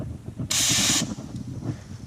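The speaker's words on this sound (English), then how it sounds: "I'll just spray it on and you could see it kind of," Fluid Film penetrating oil sprayed onto seized bolts on a budget Subaru BRZ / Scion FR-S, one loud continuous aerosol hiss lasting about half a second, standing out clearly over a low background rumble.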